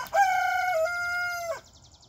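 A chicken or rooster crows once, close and loud, with a long sustained call that drops off at the end, alone with no talk.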